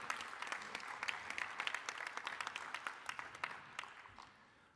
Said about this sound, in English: And let's give our AV team a round of applause.